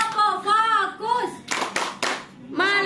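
A class chanting together breaks into a few sharp, rhythmic group claps in a classroom clapping routine, with the children's voices resuming right after.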